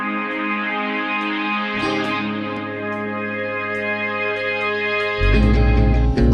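Rough first-day demo of a song, a steady sustained harmonic bed with repeated high accents that thickens as a heavy low part enters around two seconds and swells louder near the end; no voices.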